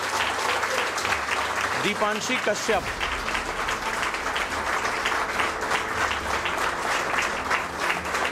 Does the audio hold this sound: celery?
no